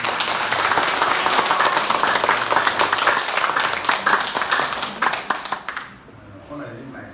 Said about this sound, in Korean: 진심으로 뜨겁게 우리 한영의 박수 한번 하겠습니다